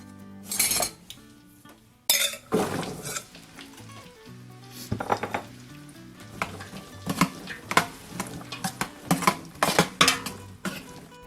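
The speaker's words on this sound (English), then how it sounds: "The butter is melted, so it's time to saute the veggies." Vegetables being sautéed in melted butter in a pan for sage stuffing, with a soft sizzle under repeated sharp clinks and scrapes of a utensil against the pan, close and fairly loud, with no talking.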